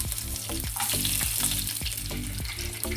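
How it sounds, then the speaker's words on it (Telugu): A spoonful of peanuts fries in hot oil with a loud, dense sizzle and crackle throughout, heard close up, with faint rhythmic scraping of a stirring spoon. No voices. "ఒక స్పూన్ పల్లి ఇవి కొద్దిగా ఫ్రై అయ్యాక"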